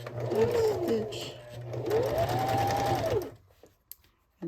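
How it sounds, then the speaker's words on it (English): A sewing machine top stitching fabric runs in two close, steady whirring bursts, pausing briefly between them, then stops and leaves a couple of faint clicks. "when I'm doing my top stitching, I want to make sure that I'm pulling the fabric, stretching it so it lays flat"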